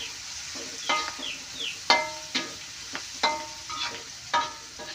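A spatula scrapes and clacks against a pan in a steady series of sharp strikes while tempeh seasoning fries beneath with a soft sizzle, close and fairly loud, no voices.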